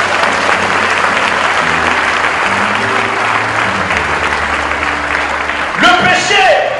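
A church congregation applauds steadily and loudly throughout, a dense wash of clapping that swells slightly near the end as a voice rises over it.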